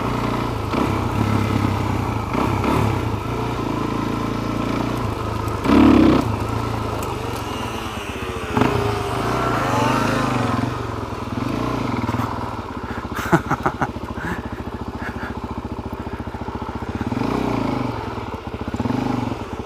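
A Suzuki DRZ400SM dual-sport motorcycle engine runs continuously nearby with a rough, buzzing idle and occasional clatter and small revs, during a roadside stop after a mechanical failure.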